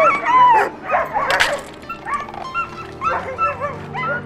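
Siberian sled dogs, Baikal huskies, yipping, whining and giving short barks close by, a restless chorus of whimpers with occasional high yelps.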